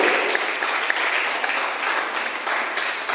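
Worshippers at a prayer meeting applaud together, a full, steady crackle of many clapping hands with small surges in intensity, continuing without pause and with no clear speech over it.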